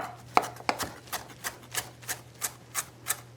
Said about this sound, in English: Just chopping off the heads of the parsley.